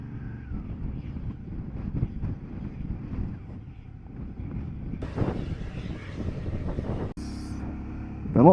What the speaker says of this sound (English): God, it's windy up here, it catches you.